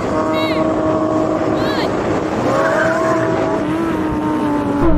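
Drag race launch of a Ferrari 488 Pista, Lamborghini STO and Porsche 911 GT3: loud engines roar with rising gear-change sweeps and tyre noise, while a voice talks over the start.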